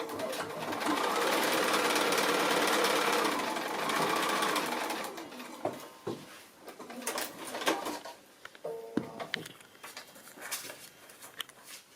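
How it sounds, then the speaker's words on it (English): Domestic sewing machine stitching across a foundation-pieced quilt block seam, a loud continuous whirr for about five seconds, then scattered clicks and handling sounds of fabric as it stops. "So I'm going to stitch right across this line here now"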